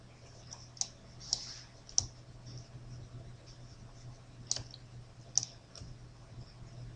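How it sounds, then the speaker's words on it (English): Computer keyboard keys are pressed in a sparse, irregular pattern, sharp isolated clicks set against a quiet room hum with no talking. "let's press Alt W on the keyboard to maximize"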